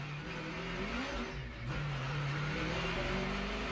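A NASCAR stock car pulling away after a crash, its engine note rising and revving steadily at mid distance under a broad, continuous roar of race noise.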